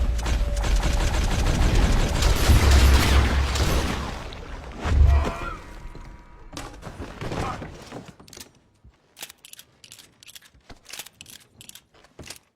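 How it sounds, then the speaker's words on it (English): Gunfire from the Deadeye ability in a Red Dead video game: a dense, loud crackle of rapid shots for several seconds, then one heavy boom, trailing off into sparse clicks and small mechanical ticks. "Pumping an unlucky cowpoke full of lead before they can even lift their gun never stops being fun in the Red Dead games."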